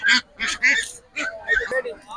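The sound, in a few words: native domestic ducks quacking at market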